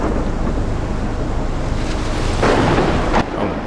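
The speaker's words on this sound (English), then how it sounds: "It's a big storm." Loud, continuous roar of a big storm with wind and rain in the game Life is Strange, with a sharper gust or crash surging late before easing off.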